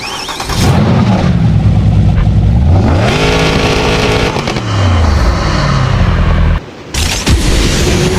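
A Mercedes-AMG SL65 R230 with a 6-liter twin-turbo V12 and side-exit exhausts, driven in the Need for Speed racing game, revs hard with rising and falling engine pitch across repeated gear pulls, loud and close, cutting out briefly near the end.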